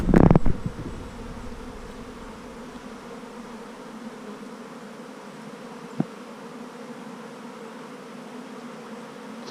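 A swarm of bees buzzes steadily around the listener outdoors, a continuous droning hum that stays even throughout, with a rustling knock at the start and a single sharp tap partway through.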